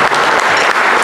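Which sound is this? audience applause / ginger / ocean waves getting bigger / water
audience applause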